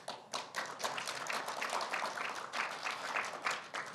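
Audience members clap during a Kwanhun Club televised debate with a Seoul mayoral candidate, a brisk burst of scattered, distinct hand claps from a modest crowd, fairly close and continuous for a few seconds with no speech.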